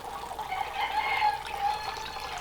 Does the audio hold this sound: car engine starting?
no